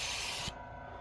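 A spray gun applies paint to van bodywork at above the recommended pressure, giving a loud close hiss that cuts off abruptly halfway through, with a brief mechanical click and faint room noise left afterward.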